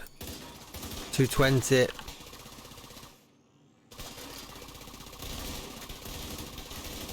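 Assault rifle fire in The Division 2, rapid bursts of automatic shots heard under a speaking voice, broken by a brief near-silent pause before the game soundscape resumes.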